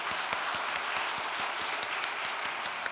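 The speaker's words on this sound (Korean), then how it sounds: "이제 그분들을 위해서 우리 더 예배 나오시라 박수 한번 부탁드리겠습니다." Church congregation applauding to welcome new members during a worship service: dense, steady clapping from a crowd, with brighter individual claps ticking through a continuous wash, moderately loud and sustained.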